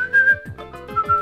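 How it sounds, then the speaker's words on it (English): A person whistles a short, bright tune during a co-op session of New Super Mario Bros. Wii, loud and close, with clear pitched notes rising and falling against game music. "Don't whistle."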